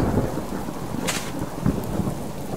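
Rain and thunder in the survival game Subsistence, a steady rain hiss with low rolling rumbles and a brief crackle of thunder, heard alone without speech.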